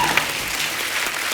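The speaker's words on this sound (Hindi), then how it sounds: "एक बार जोरदार तालियां हो जाएं अक्षय पाजी के लिए।" A television comedy studio audience claps for actor Akshay Kumar, a brief, dense burst of applause heard close and fairly loud, with no talking over it.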